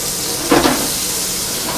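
Half a chili dropped into a hot frying pan, giving a brief sizzling hiss that swells and fades within about a second over a low steady background.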